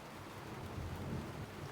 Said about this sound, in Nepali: अहिले चाहिँ पानी परिरहेछ